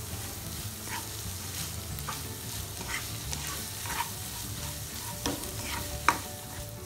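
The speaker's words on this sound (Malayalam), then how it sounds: "നമുക്ക് മുറിച്ച് വെച്ച പച്ചമുളക്, ഇഞ്ചി, വെളുത്തുള്ളി ഇതിലേക്ക് ഒന്ന് സോട്ട് ചെയ്ത് വെക്കാം" Onion, green chilli, ginger and garlic sauté in a pan for palak chicken, with a constant sizzle and repeated stirring scrapes about once a second, ending in a sharp clink of the utensil against the pan.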